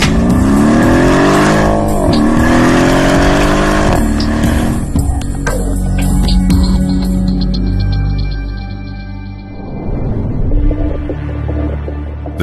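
An AMG 5.5-litre M157 biturbo V8 revs loudly, rising and falling in pitch through several sharp bursts before settling into a lower rumble and then revving again.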